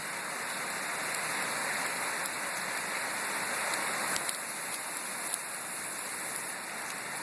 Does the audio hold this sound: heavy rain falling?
yes